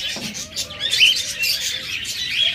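A flock of caged cockatiels at a bird seller keeps up steady, high chirping and tweeting, fairly close and uninterrupted, with no voices.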